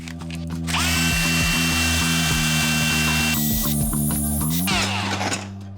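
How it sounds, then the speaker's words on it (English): A workshop lathe spins up and runs with a steady whining motor drone, the pitch shifting as it loads and then winding down near the end. "Let me just turn my lathe on for a second here."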